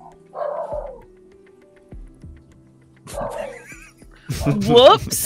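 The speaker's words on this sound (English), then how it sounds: "Is that Pogo or is that somebody else's dog?" A dog barks a few times, its short yips and whimpers separated by pauses, while people talk over a tabletop role-playing game session.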